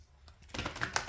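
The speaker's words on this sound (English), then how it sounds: "I'm going to just shuffle a bit here." Tarot cards are shuffled by hand in a quick, close riffle of soft papery flicks and taps that builds over about a second.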